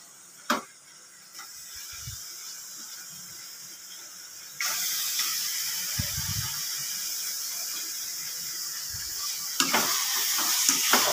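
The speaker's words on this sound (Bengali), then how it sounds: "এবার আমি চিকেনগুলি এর মধ্যে দিয়ে দিচ্ছি।" Chicken frying in a spiced masala: a quiet hiss with a couple of low thumps, then a sudden louder sustained sizzle partway through that continues steadily to the end, with brief knocks and no speech.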